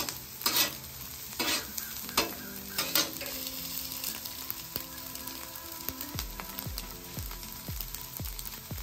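Diced onion sizzles on a griddle alongside hibachi chicken and steak, with metal spatula scrapes and sharp clanks ringing out in a steady rhythm over a constant frying hiss.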